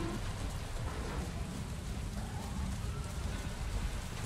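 Steady, dense rainfall in the video game Avatar: Frontiers of Pandora, a continuous broadband wash of drops with a low rumbling undertone, even in level throughout and with no voices.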